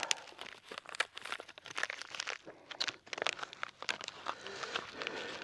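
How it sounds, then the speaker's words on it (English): A soil sample cup slipped into a paper envelope makes close, busy crinkling and rustling. The crackly paper handling runs almost continuously with small sharp crunches and no talking. "We're going to put it inside our envelope."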